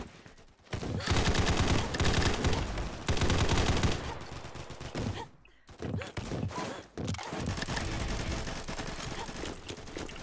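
Dense bursts of loud, rapid gunfire crackle across a video game combat zone map, coming in long volleys separated by brief quiet gaps.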